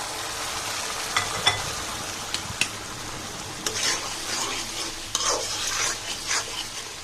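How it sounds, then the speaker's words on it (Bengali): Dried coral fish stirred into sizzling spiced masala in a pan, a steady frying hiss broken by sharp scrapes and clinks of the spatula against the pot. "তারপরে এখানে আমি শুটকিগুলোকে দিয়ে দিচ্ছি"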